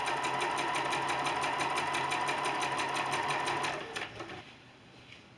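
A sewing machine stitches strips of quilt fabric in a fast, even, close-up run of needle strokes for about four seconds, then falls quiet with a few faint handling sounds.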